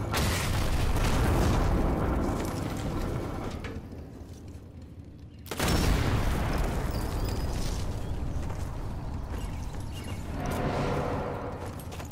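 A TNT explosion in the video game Sniper Elite 4: a loud, deep booming blast with a long rumbling tail, then a second heavy burst of sound carrying on to the end.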